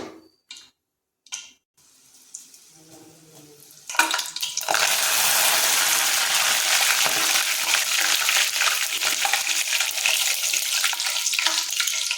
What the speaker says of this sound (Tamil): நல்லா எண்ணெய் சூடானதுக்கப்புறம் லோ ஃப்ளேமில் வச்சுக்கிட்டு இந்த மாதிரி வறுத்து எடுக்கணும்